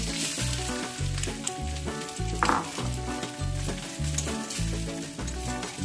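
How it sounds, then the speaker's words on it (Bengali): Moong dal frying in hot oil in a wok gives a steady, close sizzle that runs through the whole stretch, partly masked by rhythmic background music. "মুগ ডালটা ভালো করে ভেজে নিচ্ছি।"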